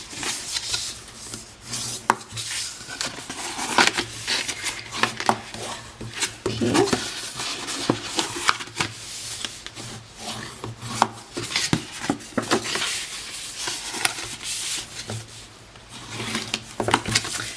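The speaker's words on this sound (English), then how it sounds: "we are going to fold and burnish those score lines" Bone folder or burnishing tool rubbing and pressing along scored cardstock for a large gift box, a steady close rasping scrape with repeated short strokes and occasional light taps throughout.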